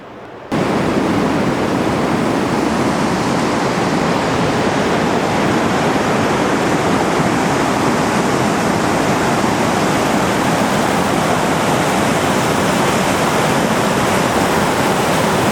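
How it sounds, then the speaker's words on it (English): The Tuolumne River rushes past in a steady, loud, broadband roar of fast-moving water that fills the whole stretch without a break, close by and with no voices. "There's the main Tuolumne River."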